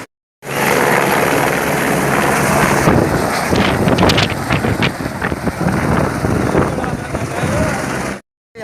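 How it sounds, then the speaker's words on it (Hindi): Helicopter rotor and turbine noise at the Kedarnath temple helipad, a steady, loud drone with wind buffeting against the mic that carries through the whole stretch, with people's voices faintly mixed in. "तो hand to hand her 2-3 minute में हेलीकॉप्टर आते रहते हैं।"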